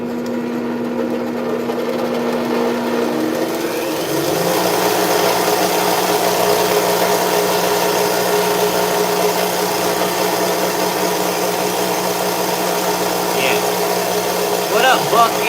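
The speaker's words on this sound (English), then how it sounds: "Getting your blade rails flat so your chain can ride true and cut straight is the bench grinder." A bench grinder flattening the rails of a chainsaw bar, its steady motor whine rising in pitch partway through as the metal is worked, close and continuous, with a voice talking over it.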